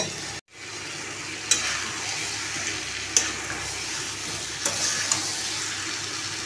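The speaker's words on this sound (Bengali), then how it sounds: "আলু মাংস একসঙ্গে ভালো করে কষে নিতে হবে।" Meat and potatoes fry together in a pan, with a steady close sizzle broken by a brief dropout early on and a few sharp spatula scrapes and taps at intervals; no voices.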